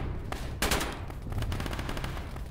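Sustained machine gun fire in the ARMA video game, a dense rattling stream of rapid shots with a sharp louder burst early on, continuing steadily throughout at close range.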